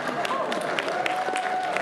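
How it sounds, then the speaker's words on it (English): A Rhode Island Comic Con 2017 panel crowd claps for themselves, giving soft, continuous, fairly distant applause with a murmur of voices underneath. "Clap for yourselves, everybody."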